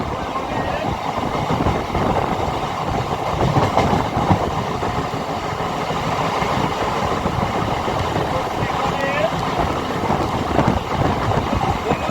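Sealdah–Barddhaman electric local train running on rails near Bandel, with a continuous rumble and rhythmic clickety-clack of wheels heard from inside, steady and fairly loud throughout.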